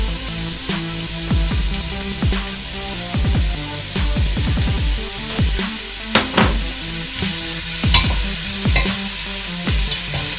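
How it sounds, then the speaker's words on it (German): Onions going into hot oil for a creamy paprika soup, sizzling steadily while a spoon scrapes and stirs the pan in repeated quick strokes, close and loud with no talking. "Das Öl ist jetzt heiß, jetzt kommen unsere Zwiebeln da rein."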